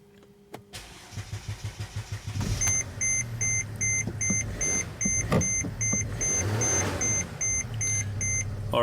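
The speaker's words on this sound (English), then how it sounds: "So I'm going to start the engine." A Mercedes R320 engine with a sticking turbo actuator and failing boost pressure regulator cranks with a rapid chugging, catches and settles into a steady idle while a repeating electronic beep chimes over it.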